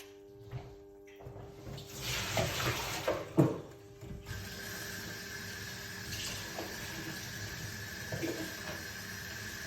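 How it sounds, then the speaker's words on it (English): A kitchen tap runs while drink ingredients are washed under it, giving a steady, moderate hiss of flowing water with a few clinks and handling knocks in the first half. "I'm gonna wash off my ingredients."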